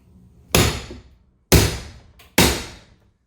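Pieces of a Formica countertop are broken apart during removal, making three loud, close cracking crashes, each one trailing off into rattle before the next hit.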